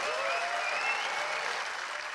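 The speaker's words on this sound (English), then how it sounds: "Thank you for that applause." Brief steady audience applause at a film festival interview in Berlin, a soft, even patter of clapping heard from some distance with no talk over it.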